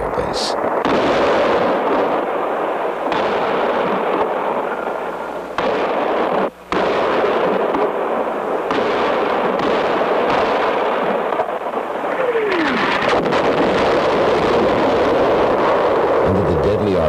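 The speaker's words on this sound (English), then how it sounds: "Under the deadly artillery shelling, the VC fire quickly faded." Artillery shelling in a Vietnam War battle, a sustained, dense roar of distant explosions and gunfire that holds steady for many seconds, with a narrator speaking over it.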